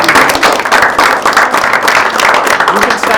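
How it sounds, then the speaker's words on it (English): An audience at a live magic show claps loudly and close, with a thick burst of applause that holds steady across the whole moment. "Give her a huge round of applause"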